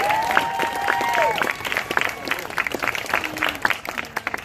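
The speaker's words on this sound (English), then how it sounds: "Let's have a round of applause for Charlie." Scattered applause from an audience at a cryptozoology event at the Santa Ana Zoo, loose claps mixed with voices and a few whoops, fading into lighter clapping.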